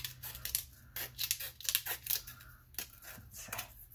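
Close snipping of scissors cutting around a shape in a recycled-material craft project, a quick irregular series of crisp cuts with faint paper rustle over a low steady hum.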